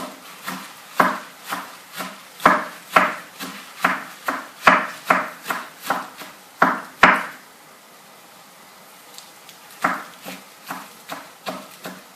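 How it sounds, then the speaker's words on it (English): A knife slices spinach on a wooden board in a quick, regular series of close, crisp chops, pausing briefly before a few more cuts, with no talking. "I'll just give it a quick slice through."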